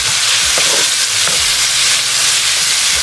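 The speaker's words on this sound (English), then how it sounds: "Let's saute this for like 30 seconds to a minute." Garlic and tender vegetables sauteing in a pan, a loud, steady, close hiss of sizzling that fills the whole stretch, with a few soft utensil bumps and no talking.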